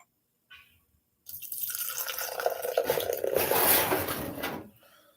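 Icehouse Edge 8% beer poured into a 16 ounce mug, a steady rushing, fizzing pour lasting a few seconds after a brief clink, then tapering off.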